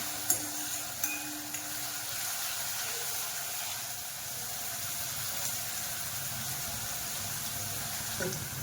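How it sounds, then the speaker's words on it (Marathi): Finely chopped onion sautés in a pan for a restaurant-style paneer matar masala, cooking until reddish; a steady, soft sizzle runs throughout with no talking. "कांदा चांगला फ्राय झालाय."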